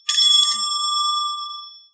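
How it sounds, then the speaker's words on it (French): A single bright bell chime rings out clearly and rings on, slowly fading over about two seconds. "Elle fera tinter ses petites cloches comme ceci."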